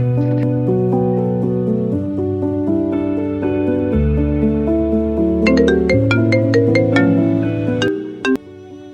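A melodic phone ringtone plays loudly, a synth tune of stepping notes with bright chime accents, cutting off near the end.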